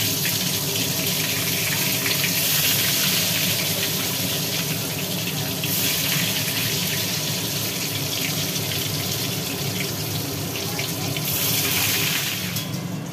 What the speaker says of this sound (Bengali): এদিকে তেল গরম হয়ে গেল, তেলের মধ্যে পড়ে গেল বেগুন